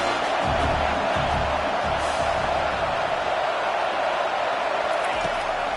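Stadium crowd in the video game College Football 25 roars on a third down, a dense, loud, sustained wash of cheering that fills the whole stretch without letup.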